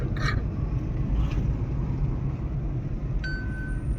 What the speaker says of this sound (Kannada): ನಮ್ಮ ಅಳಿಮಯ್ಯ ಕಾರ್ ಓಡಿಸ್ತಿದೆ